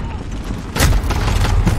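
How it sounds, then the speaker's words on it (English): A grenade detonates in Modern Warfare multiplayer, a sudden loud boom partway through followed by sustained rumbling gunfire-like bursts, with speech present around it. "Grenade out!"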